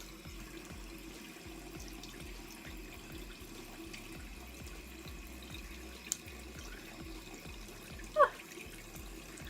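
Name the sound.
rinsing Invisalign aligners under running tap water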